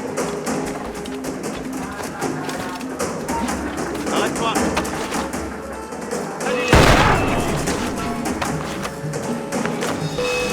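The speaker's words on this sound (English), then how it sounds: "it's best to use the blunderbuss, Adewale's powerful new weapon." In the Assassin's Creed game, blunderbuss gunfire booms out, with one loud broad blast near the middle over dense, busy game sound and someone narrator's voice throughout.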